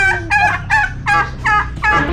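A turkey gobbling loudly nearby in a rapid series of five or six rattling bursts with brief gaps between them, with no voices over it.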